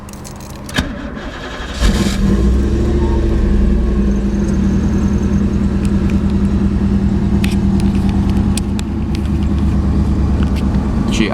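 A 1991 Pontiac Firebird with a manual transmission cranks and catches, then settles into a steady, even idle with a low rumble that holds loud and close throughout.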